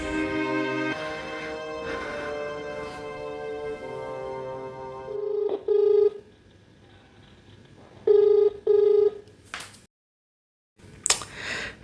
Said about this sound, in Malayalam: they phone അടിക്കണ്ടല്ലോ